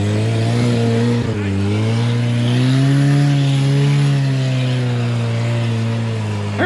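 An off-road vehicle on IROX snow tires revs its engine steadily while driving through snow, a loud, continuous drone with slowly rising and falling pitch throughout.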